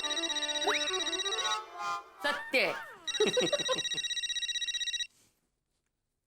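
A telephone rings with a repeating electronic tone, is briefly interrupted by a spoken voice, then resumes ringing before cutting off to silence.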